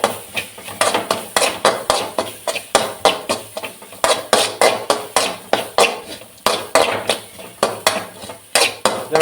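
A spoon scrapes and clinks steadily against a pan while crushed garlic, ginger and spices are stirred, a fast repeated clatter of metal on metal over a faint sizzle, close and loud, with no voices.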